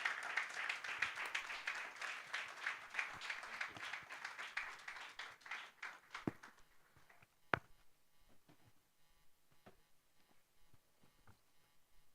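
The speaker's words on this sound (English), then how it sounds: "let's show our love and welcome Prof with a resounding applause" Audience claps to welcome a lecturer at a public lecture, fairly faint and scattered, thinning out after about six seconds into a few isolated claps and quiet room noise.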